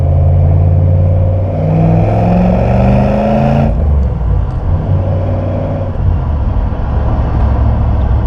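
VP HSV Senator car driving, a loud steady engine drone with rising tone up to about three seconds, then a shift to a lower, rougher running note, heard from inside the car, with no talking.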